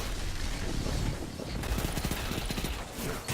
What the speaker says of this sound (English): See, the SMG at close range does more damage than it does at long range.